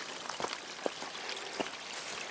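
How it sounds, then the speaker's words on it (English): A small creek on a frosty, icy day runs in a continuous soft rushing wash, with a few brief splashes and trickles rising out of the steady flow. "Little creek running beside it."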